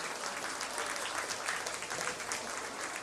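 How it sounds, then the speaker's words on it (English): Steady applause from an audience at a livestock show ring as lamb show exhibitors leave the ring at a county festival, dense clapping holding even for the whole stretch with no voices on top. "Let's give them all a big round of applause as they exit"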